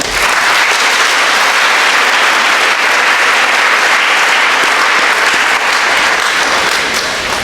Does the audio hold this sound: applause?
yes